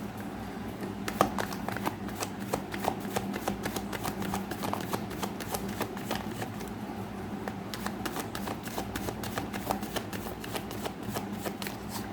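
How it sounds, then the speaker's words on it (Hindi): A deck of tarot cards shuffled by hand, a continuous close run of crisp rapid flicks and slaps that keeps going steadily with no talk over it. "एक बार मैं शफल कर लेती हूँ कार्ड्स को।"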